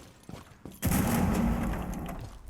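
Gunfire rattles into a wall in Rainbow Six Siege, a sudden loud burst of rapid shots that merges into a dense fusillade and slowly decays over a couple of seconds after a few softer clicks.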